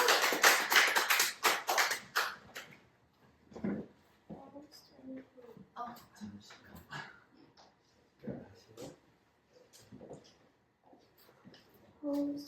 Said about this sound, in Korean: 차렷 경례 인사할 때 우리 힘차게 박수 쳐주시면 감사합니다